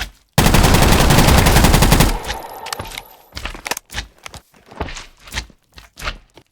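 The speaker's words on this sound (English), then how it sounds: "Then this is the SMG." SMG from a Minecraft weapons mod firing a loud, dense, rapid burst of about two seconds, then a clattering tail of scattered clicks and short crunchy thuds like footsteps or reloading in the game.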